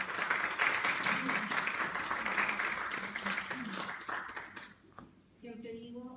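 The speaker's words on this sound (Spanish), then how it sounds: "me gustaría pedir un aplauso para ella porque es un honor" An audience applauds a guest at a panel discussion on motherhood and women with disabilities, a sustained round of clapping that fades out and gives way to a voice.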